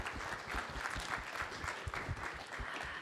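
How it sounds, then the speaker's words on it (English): Steady, dense applause fills a production event hall for a panelist, a continuous wash of many hands clapping at moderate distance with no voices rising above it. "All right, another round of applause for that panelist"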